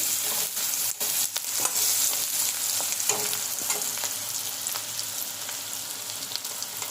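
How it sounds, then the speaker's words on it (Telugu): Garlic paste is stirred into a dry fish and white brinjal curry frying in a pan, giving a steady, close sizzle with scraping stir strokes throughout and no talking. "ఇప్పుడు మనం గార్లిక్ పేస్ట్ కూడా దాంట్లో మిక్స్ చేస్తున్నాం"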